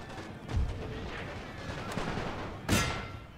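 Booming gunfire and artillery shots ring out during a Great War strategy game battle, two heavy blasts standing out over a dense rumbling battle din.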